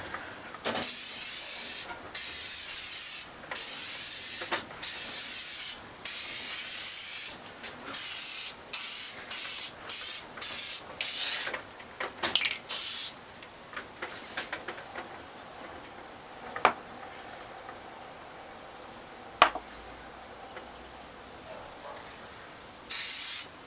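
Repeated short bursts of spray hiss from an aerosol can, close and loud in quick succession, then thinning to occasional brief sprays and soft clicks.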